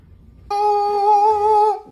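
A pet cat gives a single clear, drawn-out meow, loud and close, lasting just over a second after a brief quiet start.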